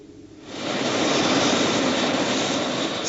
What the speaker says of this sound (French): L'hélicoptère pris dans la tempête de neige repartira par miracle.